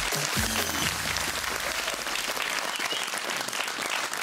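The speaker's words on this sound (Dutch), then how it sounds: "Uw applaus voor Mamma Mia!" Studio audience applause on a Dutch television comedy show, a full burst of crowd clapping that runs steadily throughout, with a brief low musical sting at the start.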